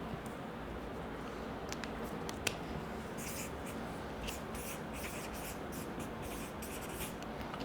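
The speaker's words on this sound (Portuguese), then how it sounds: "Eu tenho que escrever aqui, ó." Marker or chalk writing on a classroom board during a chemistry lesson, producing soft scratchy strokes and brief squeaks in short bursts over a steady low background hum, with no talking.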